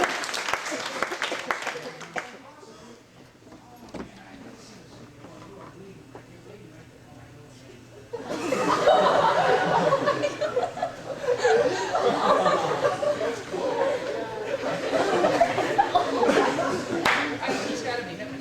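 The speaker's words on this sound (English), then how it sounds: "Give those two a big round of applause." Audience at a 2012 high school senior all-nighter hypnosis show bursts into loud, sustained clapping with some chuckling, rising sharply after a quieter stretch of talk and continuing steadily to the end.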